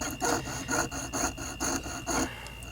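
Small hand saw cutting through a die-cast Hot Wheels 55 Gasser model car, about seven rhythmic back-and-forth strokes in quick succession, close and fairly loud with no talking.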